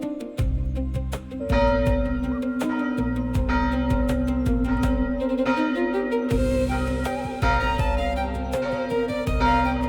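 Church bells ring out in a Hungarian village along a cycling route near Bogács, steady repeated loud strikes with a low humming resonance and overlapping tones that keep going throughout.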